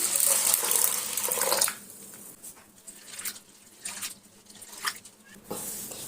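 Running tap water splashes over chana dal being rinsed in a bowl, a loud steady gush at first, then softer intermittent pouring and sloshing bursts close by.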